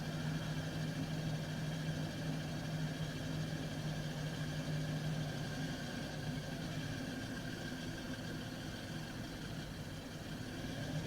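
A tractor engine in Farming Simulator 22, on the Avon Valley map, drones steadily and evenly throughout at a low, constant level, with no voices over it.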